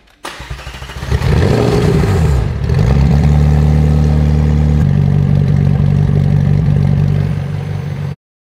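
A crash-damaged McLaren 720S fires up with a sharp starter burst, then holds a loud, close, throbbing idle with a slight shift midway before cutting off abruptly.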